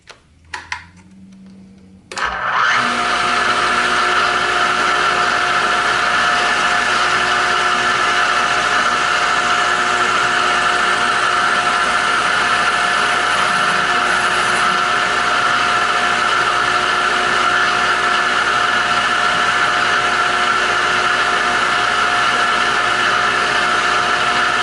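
A power tool starts up and runs with a steady high whine while cutting the tenon of a high-grade pipe stem, loud and close, holding an even tone throughout with no talk.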